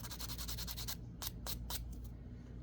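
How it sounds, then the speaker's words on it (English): A leather earring edge is smoothed with a glittery emery board, a quick run of rhythmic rasping strokes followed by a few slower, separate scrapes, soft and close against a low steady hum. "So just getting that smoothed on down with your glittery file."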